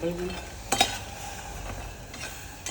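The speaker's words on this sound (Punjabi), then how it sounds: "ਇਹਨਾਂ ਨੂੰ ਘੱਟ ਗੈਸ ਤੇ ਫਰਾਈ ਕਰਿਆ ਕਰੋ" Food fries in a pan over a low gas flame in a home kitchen, a soft, quiet sizzle broken by a few sharp clinks of a utensil stirring against the pan.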